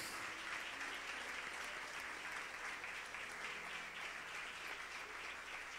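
Steady applause from a church congregation during a service honoring graduates, a dense continuous wash of clapping that stays fairly even throughout without any talk over it.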